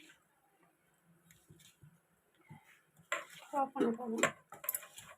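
Bonda batter with pepper powder is stirred in a bowl: near-quiet at first with faint taps, then a burst of clinking and scraping spoon-on-bowl sounds over the last two seconds, with some voice in the background.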